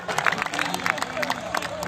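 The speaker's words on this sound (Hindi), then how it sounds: "ताली जोरदार होना चाहिए।" An audience at a Holi Milan comic poetry gathering claps in a quick, uneven burst of sharp hand claps, fairly close, with voices murmuring underneath.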